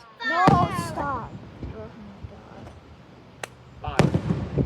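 Ocean Isle Beach fireworks pop and bang: a few distinct sharp reports spaced across a few seconds, including a cluster near the end, while onlookers talk and exclaim close by.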